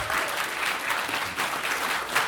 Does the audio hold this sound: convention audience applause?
yes